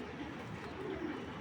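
Racing pigeons cooing softly, a brief low burbling call close by over a faint background.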